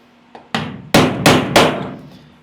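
A punch is struck with a hammer to drive out a leaking rivet on an aluminum boat: one light tap, then four sharp, loud metallic blows in a quick uneven rhythm, close up and ringing briefly.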